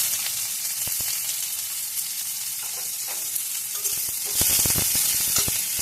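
Steady crackling sizzle of onions frying in hot oil with nigella seeds and chili, with occasional sharper pops and stirring clicks growing busier toward the end.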